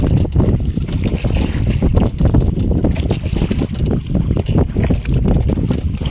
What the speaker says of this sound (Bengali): আবার একখানা নৌকা আসছে দুটো